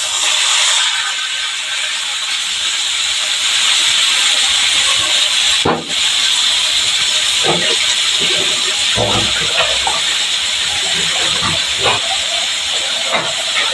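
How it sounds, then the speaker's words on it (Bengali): Bitter gourd pieces drop into hot oil already toasting whole cumin and sizzle with a loud, steady hiss throughout, broken by brief clatters of stirring. "এরপরে আমি দিয়ে দিব আমার তিতা করলা।"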